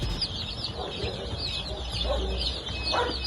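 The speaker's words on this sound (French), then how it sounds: "Les poussins Brahma obtenus ce matin." Brahma chickens and newly hatched chicks cluck and cheep close by, soft calls scattered over a steady background hum in a poultry-raising setting, with no talk.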